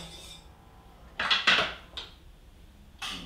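A spoon clanks and scrapes against a pot while garlic is stirred into vinegar for rosehip oxymel, a few sharp metallic knocks in quick succession with quiet gaps between.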